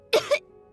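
A Genshin Impact character gives one short, close double cough, two quick harsh bursts and then quiet.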